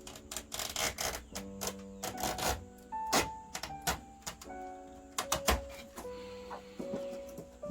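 A box cutter slices along the edge of a window screen in short scratchy scraping strokes and clicks, close and quiet, broken by pauses and occasional higher squeaks.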